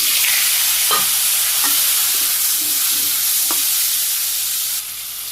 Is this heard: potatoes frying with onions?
yes